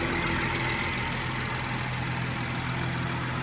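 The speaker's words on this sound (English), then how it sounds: "Really nice, smooth engine." BMW 440i Gran Coupe M Sport with an automatic gearbox and twin-port turbo engine, idling at a steady, low, smooth hum, close by and faint, with no voices.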